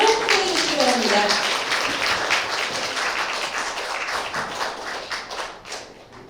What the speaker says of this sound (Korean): 여러분 문은배 이사님을 큰 박수로 환영해 주시기 바랍니다.